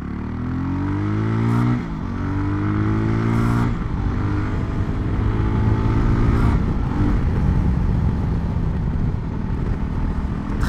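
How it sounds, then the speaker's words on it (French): A Voge 300 Rally motorcycle rides at around 80 km/h and then slows under rear braking, its engine droning loudly and steadily with pitch shifts as speed changes, under constant wind noise. "On se met à environ 80, on met le frein arrière, c'est parti."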